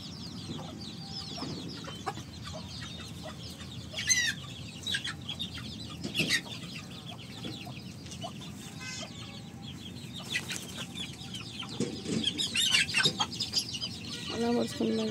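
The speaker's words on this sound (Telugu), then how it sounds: "కోడి పిల్లలు కోళ్ళు చూడండి" Hens and small chicks on a farm keep up steady clucking and peeping around a drinker, with scattered near calls over a continuous background of chatter and occasional brief voices.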